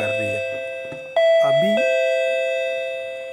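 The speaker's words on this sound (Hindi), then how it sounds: "अभी कोई भी घर के अगर दरवाजे पे आता है, घंटी को बजाता है तो बज रही है।" Electric doorbell in a home, sounding once with a sustained electronic chime tone that rings on steadily to the end; someone speaks just before it starts.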